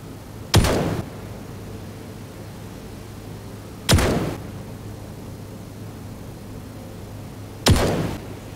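Three sharp gunshots from a gun in the video game Star Citizen, fired at boxes, ring out at even intervals of about three and a half seconds, each with a short decaying tail over a quiet steady hum.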